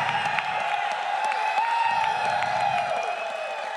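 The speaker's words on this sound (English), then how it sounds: "please, by round of applause, let Snapchat know what you think" Audience applause and cheering from a crowd at the Killer Instinct World Cup 2017 top 8 finals, a steady wash of clapping that holds loud through the whole stretch and eases slightly at the end.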